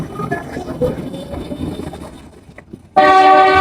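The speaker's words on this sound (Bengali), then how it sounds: "পুরো এটা ঘুরতে পারবেন এই ট্রেনে" A sightseeing train runs through the Canton Fair complex in Guangzhou, its rolling rumble close at first, then a loud, sustained horn blast cuts in for the final half second.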